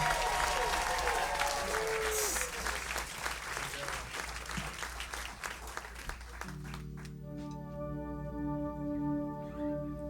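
Audience at Crooners applauds a singer after a live set, fairly quiet clapping with crowd voices, tapering off as a sustained keyboard chord rings out alone near the end.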